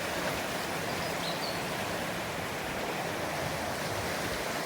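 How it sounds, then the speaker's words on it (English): Strong floodwater current rushing across farmland sends up a steady, broadband roar of churning water, continuous and fairly distant, with no voices. "The force of the water and the current is quite strong."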